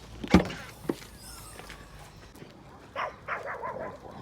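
Dogs outdoors on a riverside outing give one sharp, loud bark near the start, a softer yelp, then a quick cluster of barks toward the end amid light background noise.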